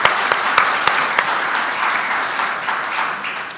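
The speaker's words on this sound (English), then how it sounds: "So let us clap for the auditors." Audience at the Ms. Wheelchair America crowning gala claps for the auditors, steady sustained applause with a few sharp nearby claps early, gradually tapering.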